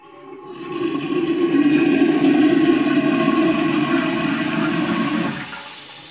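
A household toilet cistern with a dirty float valve flushes in a bathroom, a loud close rushing roar of water that swells quickly, holds steady for several seconds, then drops away into a quieter trickle and refill.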